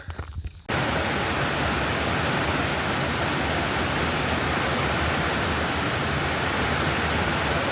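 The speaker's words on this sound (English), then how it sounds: "Rain is coming down." Steady rain falling at a creekside campsite on an Appalachian Trail hike, a dense, even hiss that starts abruptly after a brief quieter moment and stays loud and unbroken to the end.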